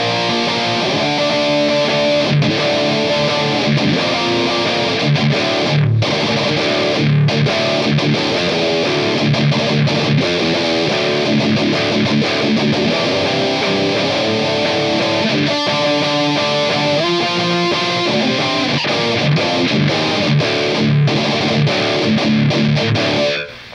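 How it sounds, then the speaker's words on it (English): Electric guitar played through a DOD Supra Distortion pedal, a dense, buzzing, sustained tone with chords and riffs filling the whole stretch loudly, no voices. "let's kick on the Supra Distortion and see how it"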